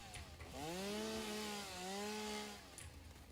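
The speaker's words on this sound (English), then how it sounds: "Just cut some of this stuff down." Video-game chainsaw from Satisfactory felling a cluster of trees, one sustained buzzing whine that dips briefly and resumes, near and fairly loud, with faint clicks at the start and end and no voices.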